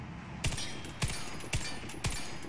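Four sharp single shots from an M249 Para Gold machine gun in the game Warface, evenly spaced about half a second apart, loud and close over a steady background hiss.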